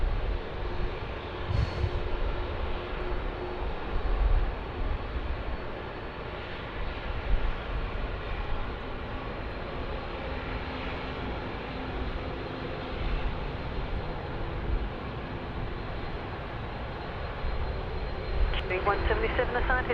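At Sydney Airport, an airliner takes off from runway 16 right as a low, steady, fairly distant engine roar that swells slightly near the end, with radio voices talking over it.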